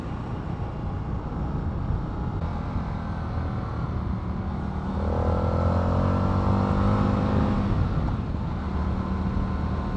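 Indian FTR R Carbon motorcycle cruising at sustained speed in fourth gear, a steady engine drone with wind rush that swells slightly around the middle, continuous and close with no talk.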